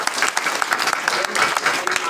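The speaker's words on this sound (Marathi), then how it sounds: "त्याबद्दल काकांचं सगळ्यांनी टाळ्या वाजवून स्वागत" An audience at a Dnyaneshwari recitation ceremony claps briskly in welcome, a continuous burst of fairly close applause with a voice faintly underneath.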